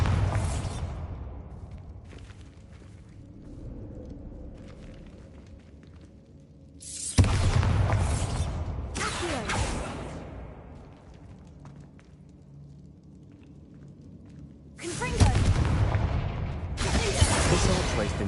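Bombarda blasting spell explosions in Hogwarts Legacy, a fantasy video game: two loud, sharp bursts with rumbling tails, each followed by crumbling debris, over a low game ambience with background music.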